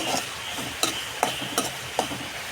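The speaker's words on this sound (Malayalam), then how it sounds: "അപ്പോൾ ഉള്ളി മൂപ്പിച്ചെടുക്കാം." Onions fried in a pan for a home-cooked egg curry, with a steady soft sizzle broken by several sharp clinks and scrapes of a spoon stirring at a slow, regular pace, close by and moderately quiet.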